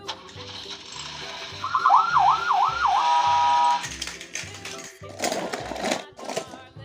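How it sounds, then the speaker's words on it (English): A wavering electronic siren whoops up and down for a couple of seconds over a steady rhythmic mechanical hum, then holds a flat tone before stopping. "Police car."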